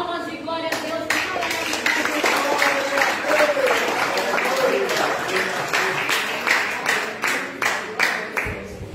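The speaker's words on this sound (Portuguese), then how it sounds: "vamos receber nossa pastora com palmas e glória a Deus" A church congregation greets its pastor with sustained, rhythmic clapping, close and loud. Voices call out over the clapping, and it trails off at the end.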